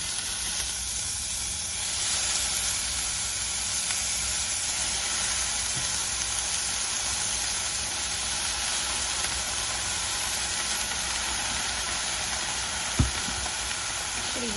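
Vegetables and garlic sautéing in a pot give a steady, broad sizzle with a faint hiss of steam, continuous and even at close range, with one brief knock near the end.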